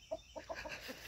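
Several soft clucks from Faverolles chickens, a few short low calls in quick uneven succession, fairly close, with a faint hiss behind them.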